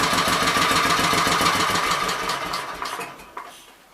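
A Kohler K241 small engine runs with a rapid, even chugging beat that slows and fades out toward the end as it dies, with no voices.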